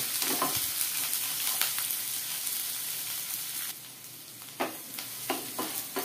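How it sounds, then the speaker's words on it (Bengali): Steady frying hiss from a pan of onions, with a few soft scraping stirs near the end; no voices. "পেঁয়াজটা আর একটু ভাজা হবে, বেশি লালও হবে না আবার সাদাও থাকবে না"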